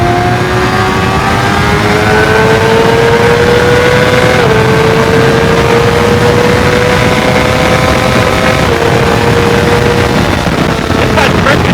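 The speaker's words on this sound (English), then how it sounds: "one is underneath the rear seat, which is only catching the exhaust sound" A loud, steady motorcycle exhaust drone with an auto blipper rises gradually in pitch with a brief dip as gears shift, heard up close under constant wind rush.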